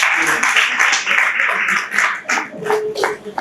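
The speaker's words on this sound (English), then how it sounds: "please, a round of applause for yourself" Applause from an audience at an anniversary gathering, close and fairly loud clapping that comes in uneven bursts, with voices mixed in.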